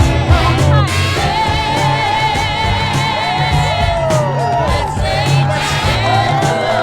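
Wedding guests cheer for the newlyweds, a loud, dense crowd with whoops and shouts rising over clapping and continuing without pause.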